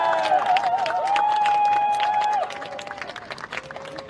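Applause and cheering rise from a crowd at an outdoor general election campaign rally in Yeongdeungpo, Seoul, on the eve of the vote. The clapping comes with a sustained tone, then softens after about two seconds.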